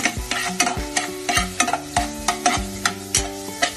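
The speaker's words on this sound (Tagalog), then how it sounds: "Gisahan mo na ng sibuyas. Papida-pidang sibuyas." Onions and ginger sauté in a pan with a continuous sizzle, punctuated by a quick, regular series of utensil clacks and scrapes against the metal as the mixture is stirred.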